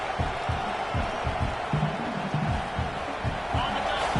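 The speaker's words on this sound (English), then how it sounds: "The crowd really making some noise now, trying to help out this defense to get this stop near the goal line" A football stadium crowd roaring during a goal-line defensive stand in an Oregon versus LSU game, continuous loud crowd noise with a play-by-play voice talking over it.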